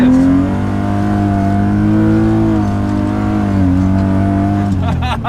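A car's engine pulls hard through third gear on a road in Saudi Arabia, a loud, steady rising drone held close for several seconds before easing off near the end.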